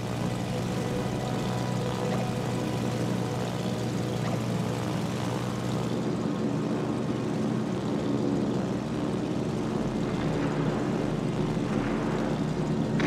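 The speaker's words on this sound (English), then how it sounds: "Attack! Enemy aircraft!" Enemy aircraft engines drone continuously in the World of Warships video game, a loud, dense propeller roar that holds steady throughout.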